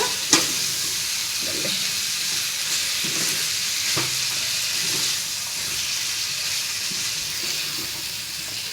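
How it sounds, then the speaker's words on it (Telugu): Chicken curry is stirred and fried in a pan after coriander is added, a continuous close sizzle with occasional soft scraping strokes of the spoon, steady and fairly loud, no voices. "ఇవన్నీ వేసేసాం కదా దీన్ని ఇంకా మంచిగా కలుపుకోవడమే"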